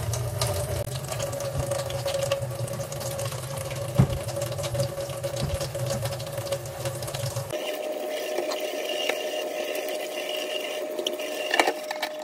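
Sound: tap water running while cleaning out a sink

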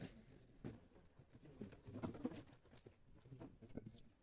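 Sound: pigeons in a pigeon loft

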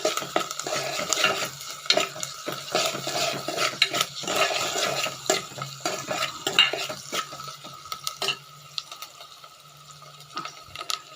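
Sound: onions frying in a pan with salt

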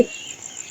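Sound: crickets chirping

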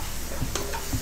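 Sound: tomatoes sautéing in a pan

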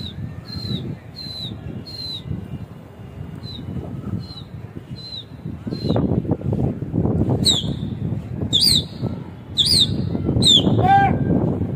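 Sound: kasni pigeons flying, wings flapping

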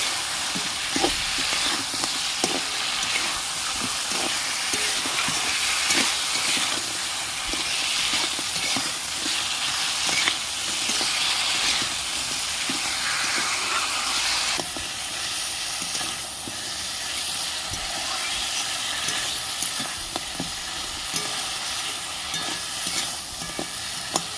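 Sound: fried crabs sautéed and stirred in pan

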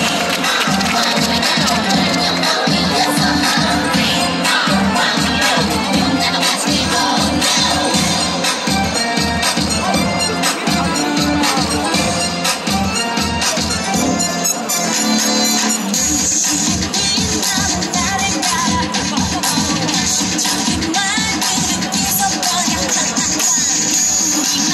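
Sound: baseball crowd applauding and cheering for players

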